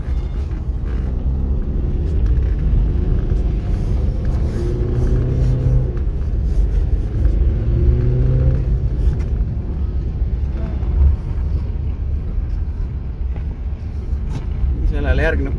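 A car cruises calmly along the Selja ice race track, its engine a steady, close in-cabin rumble under someone talking throughout.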